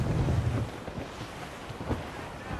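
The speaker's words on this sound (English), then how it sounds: "The wind is picking up!" Steady wind buffets a sailing ship at sea in Assassin's Creed Rogue, a continuous rushing roar with low rumble and faint creaking, no speech.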